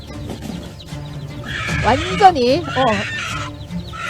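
A hen clucks loudly and agitatedly while defending her chicks from an eagle, her rising and falling calls mixed with a person talking.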